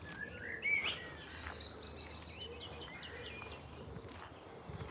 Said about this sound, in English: The birds, do you hear the birds?